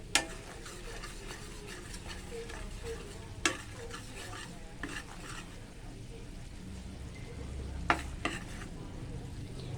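Sugar simmers in a pot for Thai palo stew while being stirred, making a continuous bubbling sizzle with scraping stir strokes and a few sharp clinks of utensil against the pot.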